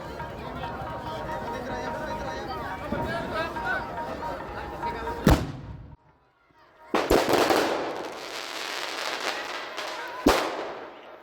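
Several sharp firecracker bangs go off, with crackling bursts in between, over a background of voices and crowd chatter outdoors at a Gurpurab celebration at Takht Sri Damdama Sahib.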